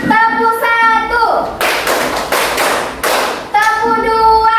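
Children in a classroom clap together in short rhythmic bursts, a few sharp group claps set between stretches of a teacher's voice.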